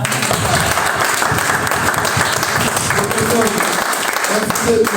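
A church congregation applauds in praise, a loud sustained burst of clapping from a crowd filling the room with dense, continuous claps.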